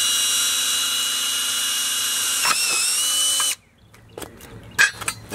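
A power drill bores a pilot hole at a trampoline park, whining loudly and steadily for several seconds with a brief pitch dip before stopping abruptly, followed by quiet scattered clicks and clatter.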